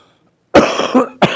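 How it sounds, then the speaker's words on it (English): A close, loud cough in two harsh bursts after a moment of silence. "I don't cough when I'm writing, just when I'm talking."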